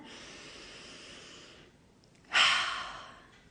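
A slow, deep breath drawn in through the nose, a soft airy hiss that fades, followed after a short pause by a louder, brief rush of breath, close and alone.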